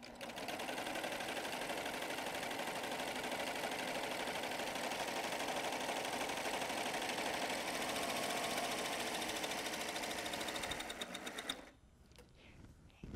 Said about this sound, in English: Let me stitch this cover stitch and you can see what it looks like.